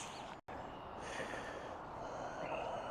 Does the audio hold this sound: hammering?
no